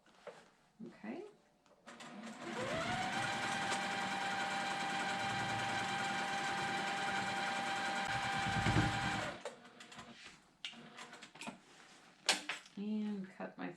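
A domestic sewing machine free motion quilts a MODA Blockheads 3 quilt, running in one long steady whirring burst of about seven seconds, close and loud. Brief clicks and handling noises come before and after, and a person talks around it.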